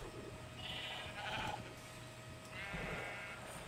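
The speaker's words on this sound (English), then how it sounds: "lots and lots and lots of sheep" A crowd of sheep in the video game Minecraft bleats in overlapping, wavering calls, two main bursts over a steady low hum, fairly quiet and with no talking.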